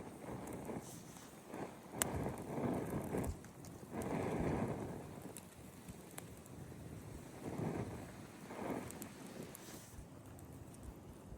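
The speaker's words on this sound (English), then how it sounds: "The wind has picked up, as you can see" Wind gusting across a cold-weather campsite beside a bivy tent, rising and falling in broad rushing surges with buffeting against the microphone, steady and fairly close with no talking.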